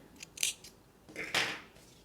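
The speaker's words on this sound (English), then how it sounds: "And then just cut the yarn." Scissors snipping through yarn while making handmade slippers from flip-flop soles, two short, crisp cuts about a second apart, close and quiet.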